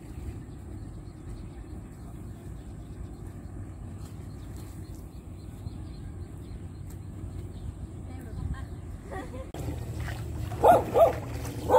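A dog on a riverside in the Mekong Delta countryside gives a few short barks near the end, over a low engine-like hum and background voices.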